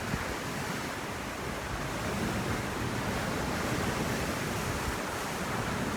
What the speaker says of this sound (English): The ocean was a bit rough and boisterous like it is right now.